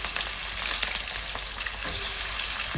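Onions and green chillies frying in oil in a pan, a steady crackling sizzle close up with a faint scrape near the end, no talking.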